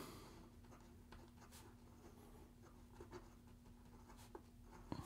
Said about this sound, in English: Here we go with the writing sample for the Penlux